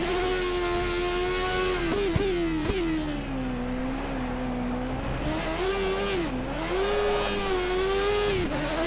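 Formula 1 race car engine from F1 2013, in a 1980s-era career race in wet conditions at Montreal, whining loudly and steadily with pitch dipping and rising through corners, slight drifting, no talk.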